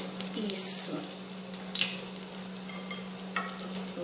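Apple fritter batter frying in very hot oil in a thin pan, a steady soft sizzle with a few sharper pops and crackles, fairly quiet and close.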